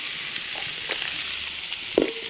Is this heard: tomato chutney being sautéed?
yes